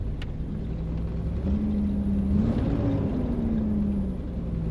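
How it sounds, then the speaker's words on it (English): A 1996 Jeep ZJ engine, misfiring and running on four cylinders, idles steadily with a low, even rumble, its pitch rising slightly for a moment before settling back; no voices. "I think it sounds like we're running on 4."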